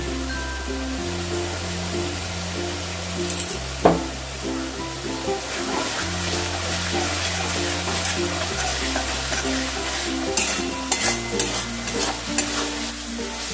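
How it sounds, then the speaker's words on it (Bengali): Spice masala for a Bengali aar fish kalia being sautéed and stirred in oil over medium heat, a steady close sizzle with repeated spoon scrapes and a low tonal hum running underneath throughout. "দেখো মশলাটা মিডিয়াম আঁচেতে ভালো করে কষাতে হবে"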